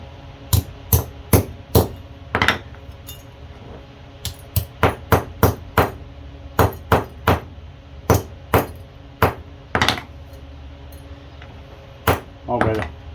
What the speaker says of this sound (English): flatten that with a hammer before I go putting it back together.